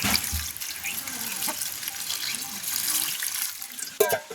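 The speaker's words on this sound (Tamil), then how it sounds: "முதல் கழுவுவோம் மேலே கழுவி எடுப்போம்" Water running from a tap as freshly picked leaves are washed at a village sink, a steady close splash and trickle with occasional louder spatters, ending in a brief sharper splash.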